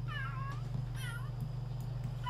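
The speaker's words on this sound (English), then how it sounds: "I hear a cat." A cat in The Sims 3 meows twice, clear and fairly close, over a steady low hum of game background sound.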